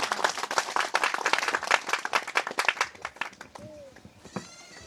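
An audience at a Christian gathering claps loudly in a dense, sustained burst of applause that fades toward the end, leaving a few scattered claps and faint voices.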